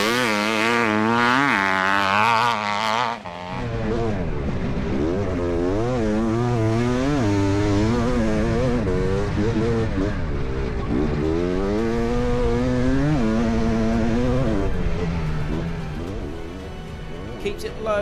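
A 500cc two-stroke motorcycle engine screams at close range on a fast lap over a dirt track with tabletop jumps, its pitch rising and falling sharply through gear changes and throttle blips, with a voice talking over the top.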